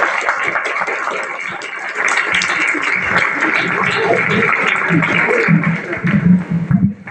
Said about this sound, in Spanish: Les damos otro aplauso.